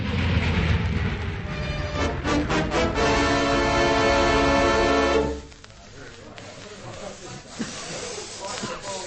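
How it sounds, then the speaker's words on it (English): A loud train rumbles with hissing and screeching wheels for about five seconds, then the noise drops away abruptly, leaving softer clatter and faint voices. "Stop the train! Stop the train!"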